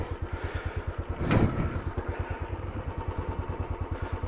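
A Royal Enfield Desert Storm motorcycle engine thumps in a steady, even single-cylinder beat while riding on a hot day, close and prominent, with a short rush of wind or passing noise partway through.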